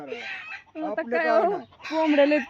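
Chickens cluck and squawk close by in short, uneven bursts, with a voice mixed in among the calls.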